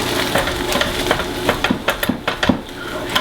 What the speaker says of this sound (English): smooth out the cream cheese with the back of the spatula